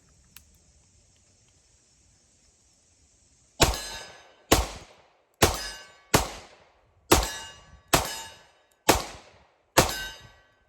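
A Colt Delta Elite 10mm pistol firing PMC Bronze rounds, eight sharp loud shots at a steady, slightly uneven pace, each ringing briefly after a quiet lead-in.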